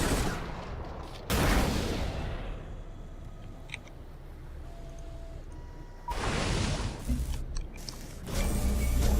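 Laser units attacking in the strategy game Civilization Beyond Earth: two loud bursts of crackling, broadband weapon fire separated by a quieter stretch with faint tones, then a third burst rising at the end.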